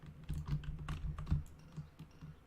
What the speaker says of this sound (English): just so we can get some keyboard sounds